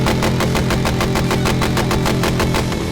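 Motorcycle engine blaring at a loudest-motorcycle contest during a bikers' gathering by a small lake, a loud, steady roar with rapid rhythmic pulsing throughout, close and unbroken.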